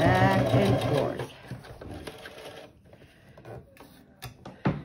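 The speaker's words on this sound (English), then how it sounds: "You can sew that onto your bag." A sewing machine runs fast stitching a seam on a drum bag, loud and steady at first, then slows into scattered, intermittent clicks and bursts of stitching.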